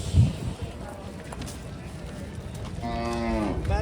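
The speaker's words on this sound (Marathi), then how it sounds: "हा पटावरचा बैल आहे." A bull at a cattle market gives a drawn-out, nearby moo near the end, over a murmur of crowd noise and a brief thump at the start.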